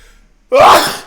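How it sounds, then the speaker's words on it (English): A single sharp sneeze bursts out after a brief quiet moment, loud and close, with a short sharp intake of breath leading into it. "I'm about to Leh. sneeze again."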